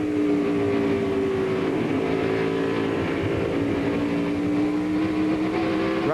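Kevin Harvick's NASCAR Winston Cup stock car howls at full throttle around Bristol Motor Speedway, a loud, sustained engine roar with a steady pitch that dips slightly and climbs again near the end.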